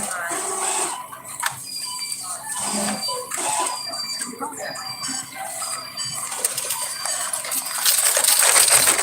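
Coins clink and rattle as they are handled and dropped, scattered bright metallic taps and jingles close by, mixed with faint rustling and machine-like noise, while a person talks intermittently.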